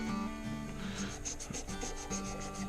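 Sandpaper of 320 grit rubbing against a slimline pen spinning on a wood lathe, a steady close raspy friction with a low motor hum beneath, pulsing slightly as the paper moves.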